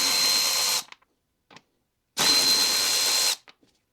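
A power tool spins Torx screws out of the acoustic cover on a BMW N43 engine in two short bursts of high-pitched whirring, each under a second long and separated by a brief pause and faint clicks.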